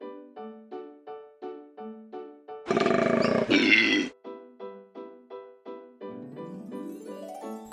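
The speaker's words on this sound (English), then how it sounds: "koala" A koala call from a toy animal sound collection, a harsh, rasping roar lasting about a second and a half, loud and close over a repeating tuneful music-box melody.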